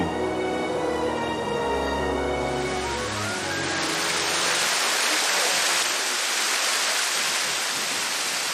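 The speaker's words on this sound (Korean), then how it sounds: "화산 안반에 고여 있던 온천수가 폭포처럼 흘러내리는데요" Steady broadband rush of hot spring water pouring down a lava rock cliff as a waterfall on Iturup Island, a continuous loud roar with no pauses, nearby and filling the whole clip.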